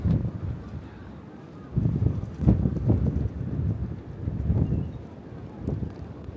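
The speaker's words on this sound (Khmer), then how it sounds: "right now it's a blizzard" Blizzard wind gusts through a snowstorm in Rhode Island, roaring broadly and rising in surges over several seconds, buffeting the microphone with low rumble, with no voices heard.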